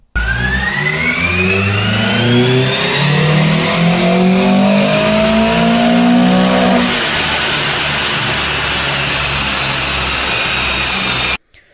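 A Honda Prelude engine revs hard on a dyno during a baseline pull, its loud tone climbing steadily for several seconds before easing off and cutting out near the end.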